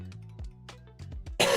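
A single harsh cough bursts out near the end, after a stretch of soft voiced throat sounds and clicks, from a sick person streaming a Magic: The Gathering Arena card game session.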